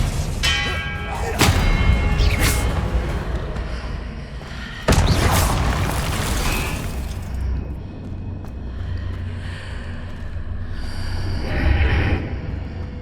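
Hogwarts Legacy spell combat: sharp whooshing casts and booming blasts land in bursts, two big impacts near the start and middle, then quieter rumbling and another swell toward the end, with no talk.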